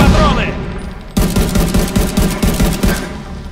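Grenade and gunfire in Tom Clancy's The Division 2, a short quieter lead-in then a sudden loud burst of rapid automatic shots continuing in a steady rattling volley.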